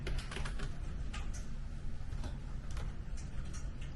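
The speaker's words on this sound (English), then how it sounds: "Let's type that." Typing on a computer keyboard during medical coding work: faint, rapid clusters of key clicks with short pauses, close but quiet against a low background hum.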